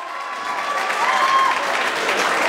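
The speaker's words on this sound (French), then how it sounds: "Applaudissez pour le couple, s'il vous plaît." Wedding guests in Paris applaud the newly married couple, a loud, sustained burst of clapping from a large crowd that swells slightly and holds steady throughout.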